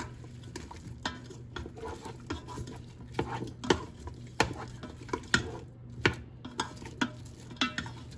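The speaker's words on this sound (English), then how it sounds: "don't forget to stir it really good and let it a little bit fry until that the onions turn brown" Onions being stirred and fried in a pot for chicken biryani over high heat, with repeated scraping and clinking strokes of a utensil at a steady rhythm over a low sizzle, close by.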